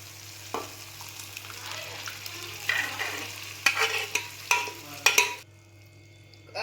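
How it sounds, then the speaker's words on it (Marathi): Cooked dal being stirred into butter and whole spices in a pan for dal makhani, soft sizzling under a series of spoon scrapes and knocks that grow louder, then a quiet stretch at the end. "आता आपण जी डाळ शिजवून घेतली होती ना आता ती घालून घेऊया ह्याच्यामध्ये"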